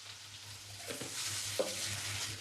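Potato pieces fry with turmeric in a pan for a Bengali-style pumpkin dish. A soft, continuous sizzle runs close by, with a couple of brief stirring knocks partway through and no talking.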